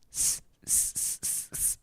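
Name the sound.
voice imitating a hissing S consonant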